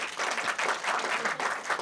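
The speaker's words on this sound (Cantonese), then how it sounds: "再次掌聲恭喜！" An audience at a short film festival award ceremony claps steadily for a winning film, a dense, continuous applause from a full room throughout.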